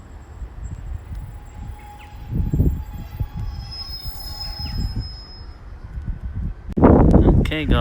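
A Class 150 diesel unit, 150-243, rolls past at Exeter St Thomas with metallic wheel squeal ringing over rumbling wheels, growing louder toward the end while people talk nearby.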